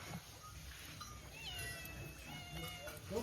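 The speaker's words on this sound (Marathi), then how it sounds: "मांजर पण आलाय." Faint cat meows from a black tomcat, a few short wavering cries spread through a quiet, noisy background in a village forest in Konkan, somewhat distant.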